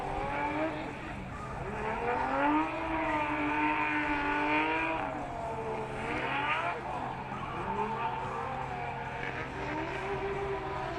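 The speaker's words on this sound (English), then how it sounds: "Sexsmith in that NV Auto Subaru BRZ. Now it's his turn to warm up his tires." Subaru BRZ drift car revving hard and sliding to warm its tires, the engine note rising and falling in long sweeping waves with tire squeal, loud and sustained at a Formula Drift event, with a commentator's voice running underneath.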